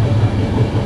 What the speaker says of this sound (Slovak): Sme v osobnom vlaku, ktorý vychádza z Malaciek a končí v Leopoldove.